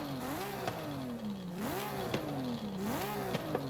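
A car with an RB25 engine in Forza Horizon 5 revving repeatedly, the engine note climbing and dropping in a regular cycle with sharp shift clicks, steady and clear with no talk.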